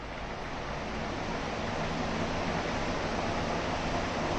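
Crompton Greaves Trans Air 300mm heavy-duty kitchen exhaust fans running at full speed, a steady broadband whoosh of moving air with a low hum, continuous and fairly close.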